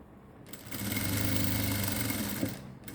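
A sewing machine double-stitches thread piping into black blouse fabric: a steady, close mechanical whir that starts after a brief pause, runs for about two seconds, then stops.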